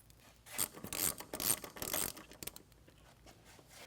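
Close-up rasping and ratcheting bursts from a wrench or tool working on 10mm bolts holding the headlight on a 2012 Ford F150, several quick scraping runs in the first half and then quieter clicks, with no talk.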